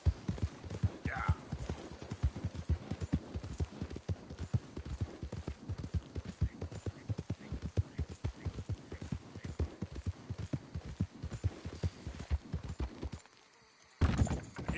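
Horse hooves clip-clop in a steady, quick rhythm as a horse is ridden in Red Dead Redemption 2, each step distinct and close, with a brief whinny early on and a short drop-out near the end.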